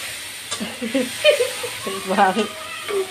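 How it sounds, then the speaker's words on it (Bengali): Masala for mutton liver curry frying and being stirred in a pan gives a soft, steady sizzle and hiss, mostly beneath a person talking close by. "মশলাটা ভালো করে কষাতে হবে, অনেক ভালো করে কষাতে হয়।"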